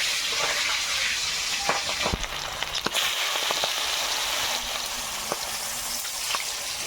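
Bele fish frying in a hot wok, a steady, close, dense crackling sizzle with scattered sharper pops and spits and no talk.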